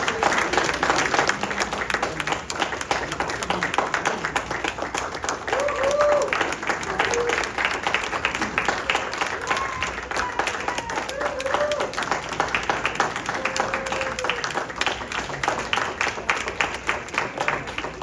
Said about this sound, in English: let us give them a round of applause for all their talents